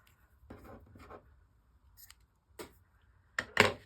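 Scissors cutting yarn close up, a handful of short crisp snips and rustles separated by near silence, the last ones louder.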